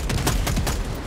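Rapid bursts of grenade-launcher fire and explosions in the Helldivers video game, several loud booming thuds in quick succession over a dense rumbling background.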